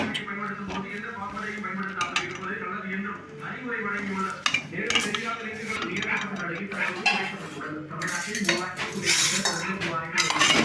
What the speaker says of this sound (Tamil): நல்லா கிண்டி விடணும்